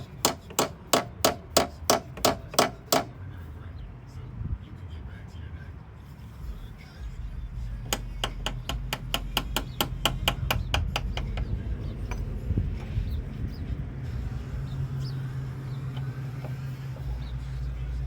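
Sharp metallic hammer taps drive a hinge pin into the door of a Chevy OBS truck, about ten quick strikes in an even rhythm, then a pause and another fast burst of taps over a steady low motor rumble.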